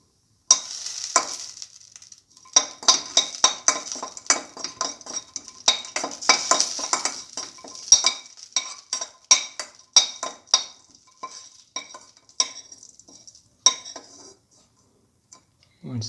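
Cashews frying in a pan and stirred with a utensil, with rapid metallic scrapes and clinks over a soft sizzle, close up and fairly steady, thinning out near the end.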